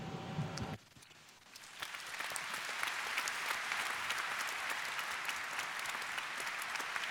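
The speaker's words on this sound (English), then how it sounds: "you always got a big round of applause for what you were saying" Sustained applause from a large audience at a public-day space conference session, starting after a brief lull and holding steady, dense and fairly distant for several seconds.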